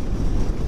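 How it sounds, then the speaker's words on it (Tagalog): Strong wind buffets the microphone of a motorcycle during a ride in Aurora, a loud, steady, dense roar across the whole moment with no voices. "Lakas ka ng hangin eh."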